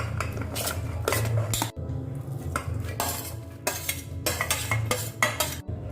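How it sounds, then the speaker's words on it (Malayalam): Chopped vegetables tipped into a pressure cooker for a Kerala kurma, giving repeated clattering, scraping metal-on-metal knocks and stirring clinks, close and fairly loud, over a steady low hum with no talk. "അരിഞ്ഞു വെച്ചിരിക്കുന്ന വെജിറ്റബിൾ എല്ലാം കൂടെ നമുക്കൊരു കുക്കറിലേക്ക് ഇട്ട് കൊടുക്കാം"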